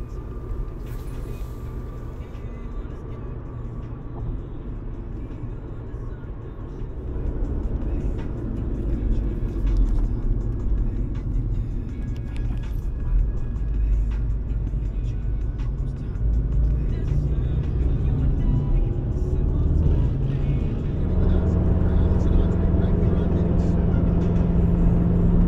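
A car cruising on a Texas freeway, with a steady low road rumble and tire noise that swells louder partway through and holds at a constant drone.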